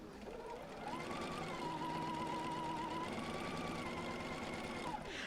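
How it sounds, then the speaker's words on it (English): A sewing machine stitches quilt blocks together in a steady, rapid whirring run, close and clear. It rises in pitch as it speeds up and holds for several seconds before slowing and stopping. "flip the right one over onto the left, line it up, and start sewing."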